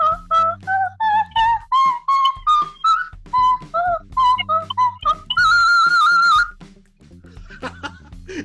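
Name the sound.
whistling imitating birdsong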